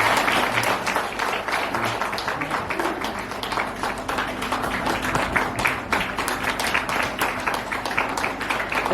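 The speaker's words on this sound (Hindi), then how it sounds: "तालियां बजाते रहेंगे हम।" A congregation at a prayer centre claps steadily and densely for about nine seconds, a continuous wash of many hands at close to moderate distance, with no one speaking over it.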